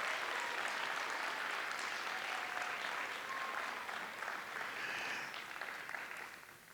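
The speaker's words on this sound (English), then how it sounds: "let's give him a big round of applause" An audience at a school arts ceremony applauds in a dense, sustained wash of clapping that holds steady for several seconds and then begins to fade.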